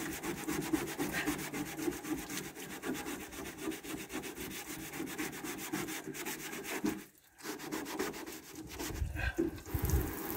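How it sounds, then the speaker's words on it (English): Steady rhythmic scrubbing rubs linseed oil into the oxidized blue paint of a 1946 Chevy, a close, quiet, continuous rasp with a short pause partway through. "you got to scrub quite a bit to get that blue color back"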